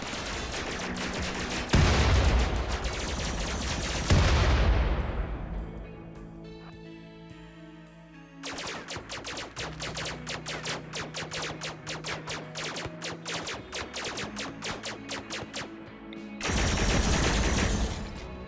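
Sustained gunfire against defensive turrets in RimWorld, long rattling volleys of rapid shots broken by a quieter stretch with tonal game sounds, then a final loud burst.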